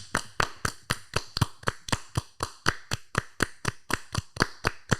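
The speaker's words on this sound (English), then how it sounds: "Let's give Jake a round of applause." A single pair of hands claps in a steady, evenly spaced rhythm, about three claps a second, close and crisp, with no crowd joining in.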